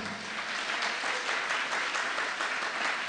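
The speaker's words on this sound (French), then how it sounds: "Est-ce qu'on peut acclamer le Seigneur Jésus?" A church congregation applauds and cheers together in a dense, steady burst of clapping that holds evenly throughout, loud and close, with no talk over it.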